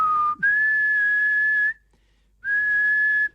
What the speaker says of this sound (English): That was, again, good whistling.